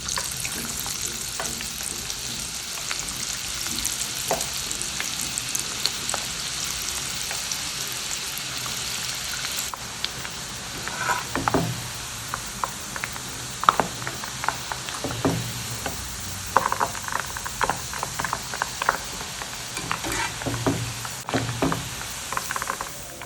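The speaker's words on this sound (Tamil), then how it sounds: "இப்போ நம்ம பேட்டரி எல்லாத்தையும் பூந்தியாக பொரித்து எடுத்தாச்சு." Boondi batter drops deep-frying in hot oil for vada pav give a steady bubbling sizzle throughout, with occasional clinks and scrapes of a utensil over the continuous frying crackle.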